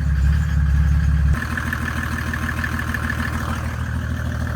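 A turbo diesel engine swapped into a Mercedes 380SL runs with a deep, loud throb that drops abruptly to a lighter, steady higher-revving hum, close up with no talking.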